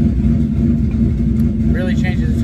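Turbocharged car with an electric exhaust cutout opened, bypassing the muffler, gives a loud, steady low rumble with a deep droning tone, close by and continuous.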